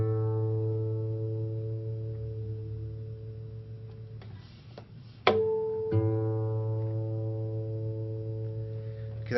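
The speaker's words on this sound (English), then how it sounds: "I took the tuning fork, played the string, turned down the tuning key" A sustained steady tuning-fork tone with harmonic overtones rings alongside a plucked guitar string; the string cuts out briefly with a sharp pluck, then both tones ring together again.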